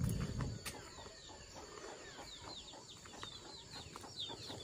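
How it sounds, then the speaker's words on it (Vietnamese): A flock of chickens clucks softly at a distance on a rural homestead, scattered short calls and chirps over a constant background hiss and hum, with a louder low rustle at the start. "Đấy, đàn gà của chị Máy này"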